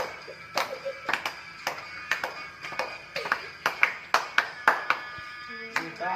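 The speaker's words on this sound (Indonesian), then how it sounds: "Sambil tepuk tangan, yuk" Hands clap along in time to a cheerful sung march, a series of sharp, evenly spaced claps ringing out over the singing voices at moderate loudness.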